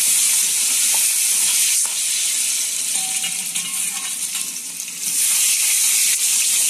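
Potatoes with turmeric and salt fry lightly in oil, giving a loud, continuous sizzle close by with occasional stirring rattles.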